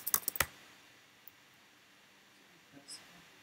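A few quick keyboard clicks at the start, from someone typing on a computer during a coding lecture, then near silence with one or two faint later taps.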